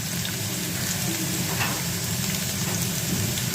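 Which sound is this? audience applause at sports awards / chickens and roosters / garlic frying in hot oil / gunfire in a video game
garlic frying in hot oil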